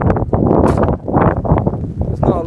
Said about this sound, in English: It is pretty windy too today, so I am sorry about that if you can hear that on the camera.